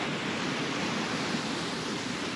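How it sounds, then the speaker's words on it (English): Rushing water from a big river crossing near a huge waterfall in the Icelandic highlands, a steady broad roar that holds constant and fairly faint throughout, with no voices. "it's a big, big river crossing. So we're going from here over to there with that huge waterfall down below."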